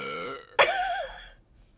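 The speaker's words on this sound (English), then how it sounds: "Having a burp" A single long, loud burp from a woman, voiced and tonal, wavering in pitch before trailing off into quiet.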